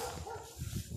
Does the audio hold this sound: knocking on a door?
no